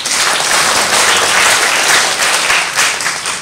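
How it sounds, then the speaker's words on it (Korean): A church congregation gives a burst of applause after a sermon, a full, dense clatter of many hands that stays loud and steady, with no voices over it. "우리 하나님 앞에 감사 영광의 박수 올려드립니다"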